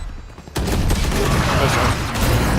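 Gunfire in a tactical first-person shooter round after the spike is planted, a sharp onset followed by dense sustained bursts of shots and clatter filling the remainder, with a voice faintly under the noise.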